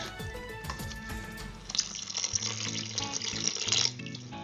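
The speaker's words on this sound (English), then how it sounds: "you should add some more water to the sambar" Water pours from a tap into a pot of sambar, a clear splashing stream starting midway and running steadily nearby, with some kitchen clatter before it.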